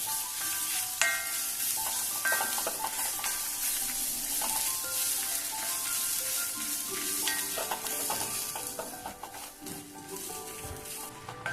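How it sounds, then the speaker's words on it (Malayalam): Grated coconut, about a handful, fries in a pan with a steady sizzle while a spoon stirs it in continuous scraping strokes, close and alone without talk. "തേങ്ങയും നല്ലോണം മൂത്ത് വരുന്നതുവരെ വറുത്ത് കൊടുക്കാം"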